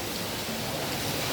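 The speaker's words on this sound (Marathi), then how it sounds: "आणि आज या असा पाऊस चालू आहे." Steady rain falls in a dense, even hiss throughout, quiet and unbroken, with no voices over it.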